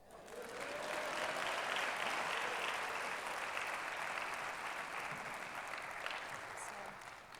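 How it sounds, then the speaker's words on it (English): An audience applauds steadily for several seconds, a dense wash of clapping that swells and then slowly tapers off. "I believe that does deserve an applause"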